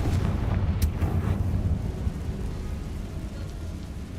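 A Confringo fire spell explodes in a Harry Potter video game, giving a loud, sustained rumbling blast with crackling debris that stays dense and steady throughout.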